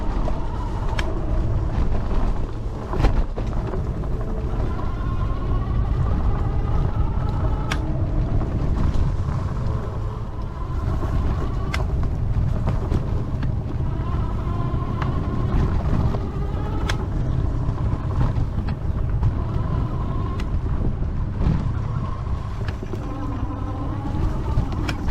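Ridstar Q20 electric bike ridden off-road, a continuous rumble of rolling tires and motor whine mixed with heavy wind buffeting and occasional sharp bumps and rattles.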